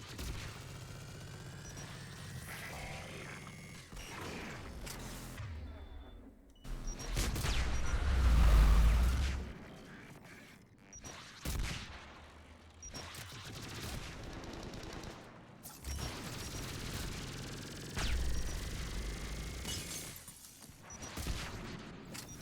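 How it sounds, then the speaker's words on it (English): Submachine gun fire in a Mass Effect 3 battle, rapid bursts rattling repeatedly over a rumbling background, with one heavy boom partway through. "Being gunned down by their own SMGs."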